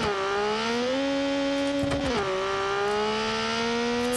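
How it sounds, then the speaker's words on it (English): A car with a small turbocharged three-cylinder engine spins its wheels at a racetrack in BeamNG.drive, holding a loud, steady, high-revving drone whose pitch climbs, dips briefly, then rises again, with a tire whine running underneath. "It's nothing but wheel spin."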